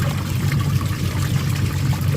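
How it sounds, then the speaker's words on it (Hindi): Water pours steadily into a washing machine, a continuous close rushing splash with no pause and no talking. "पानी मैं डाल देती हूँ।"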